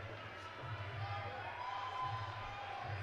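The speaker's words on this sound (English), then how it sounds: "Got a packed out crowd for this one." A packed crowd at a boxing match in the Newburgh Armory, a steady wash of cheering and murmur filling the hall at moderate loudness, with low rumbling swells and no clear single voices rising above it.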